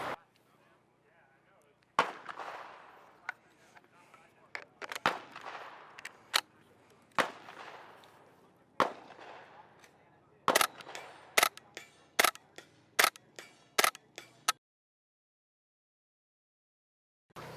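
Suppressed rifle shots ring out outdoors on a sunny day: a series of sharp, muffled cracks, spaced irregularly at first, then firing in a quicker cluster before falling silent.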